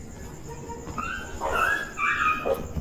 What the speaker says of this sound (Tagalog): may aso kong naririnig